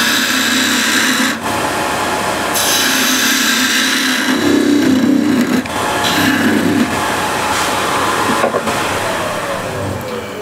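A tool trims the flange of a piece of wood, producing loud, rough rasping and grinding in several bursts with brief pauses between them, close up and without talking.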